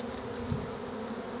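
Bees buzz around a beehive in a steady, dense drone, close to the microphone and continuous throughout, with no talking.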